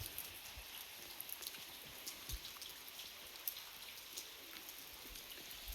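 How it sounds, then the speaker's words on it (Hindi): Rain falls steadily on surfaces outdoors in a village, a dense, even patter with scattered louder drops, heard with no talking. "कहाँ जा रहे हो बारिश में भीगते भीगते?"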